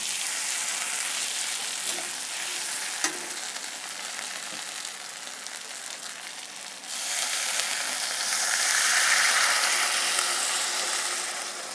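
Water goes into a hot pan of sautéed vegetables for a rohu fish curry, giving a continuous sizzling hiss that swells into a louder, brighter sputter partway through.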